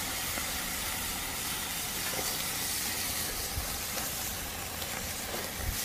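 Tri-tip steak searing over hot coals on a Weber kettle grill, a steady broadband hiss and sizzle that holds at an even level throughout, with no talking.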